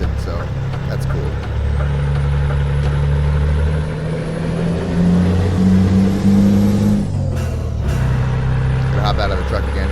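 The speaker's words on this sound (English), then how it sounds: "The engine sound is worse than ever, in my opinion." A truck engine in Euro Truck Simulator 2 hums steadily with a low, droning tone, briefly rising in pitch as if revving before settling back to a constant rumble.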